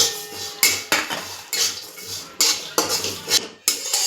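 Sesame seeds roasting in a pan for stuffed brinjal bhaji, heard mainly as repeated sharp scrapes and clinks of a metal spatula stirring against the pan, close and rhythmic.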